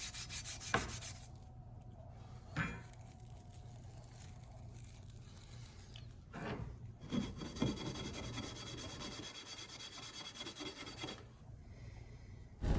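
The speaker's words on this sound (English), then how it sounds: "just scrub it down and occasionally wipe it with your dirty rag" Big 45 scrubbing pad rubbing rust and carbon off a steel M1 Garand operating rod, producing repeated close, dry scraping strokes in uneven bursts with quieter pauses between.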